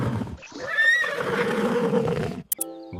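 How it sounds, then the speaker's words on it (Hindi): A horse neighs in one loud, close whinny with a wavering pitch lasting about two seconds, then a short cut and a faint trailing tone. "Neigh."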